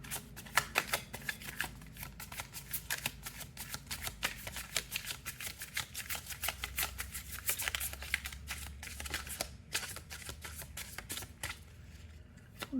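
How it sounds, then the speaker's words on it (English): Tarot cards being shuffled by hand for a pick-a-card reading, a long run of quick riffling flicks and soft slaps that keeps a steady, close, busy rhythm with no talking. "Let's pull two more cards."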